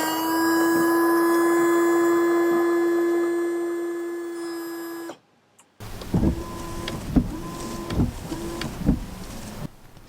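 A Yukon windshield washer fluid pump runs with a steady, loud electric whine for about five seconds, then stops; afterward come spraying and rattling noises.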